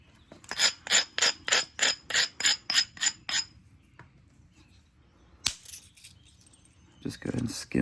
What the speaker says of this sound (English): Just go ahead and skim that ridge off there.